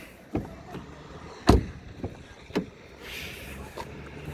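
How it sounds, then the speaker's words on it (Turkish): Front door of a Peugeot 508 shutting with a solid, dull thud, heard close among a few lighter knocks and clicks from the car body, with no talking. "kapı sesimiz burada daha tok"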